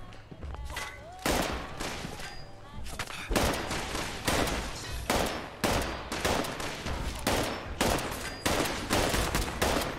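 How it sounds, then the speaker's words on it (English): A rapid volley of shotgun blasts in Fallout 76, a dozen or more loud, sharp reports fired in a fast, fairly even rhythm, each ringing briefly before the next shot. "this is a shotgun"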